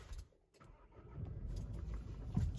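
A 2018 Nissan Navara 2.3 dCi Tekna pickup with 70k miles starts up: a brief crank after a quiet pause, then the diesel catches and settles into a steady low rumble, close and alone.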